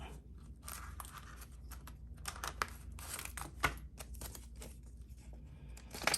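Cash envelopes and paper money being handled, a close, soft run of rustling, crinkling and light tapping paper sounds, with a few sharper crinkles, no voices.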